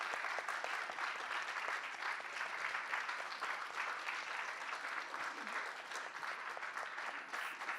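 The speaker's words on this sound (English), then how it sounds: "I'd like the audience to give you a round of applause for the..." Sustained applause from a conference audience at a UN media zone event, a dense, steady wash of many hands clapping that holds at an even level throughout without pause.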